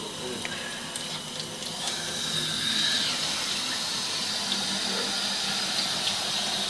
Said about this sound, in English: Turn the water up a little bit.